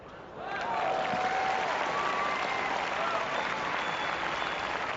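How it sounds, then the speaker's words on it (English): Crowd at a 2005 Hong Kong women's tennis semifinal applauding and cheering for Svetlana Kuznetsova, a swell of clapping that rises quickly and holds steady, heard from a distance. "As you can hear the crowd getting behind Svetlana"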